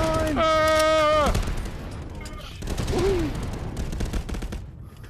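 Gunfire in the VR shooter Contractors, with rapid automatic bursts rattling throughout under excited shouting, loud and close at first, then continuing slightly quieter toward the end.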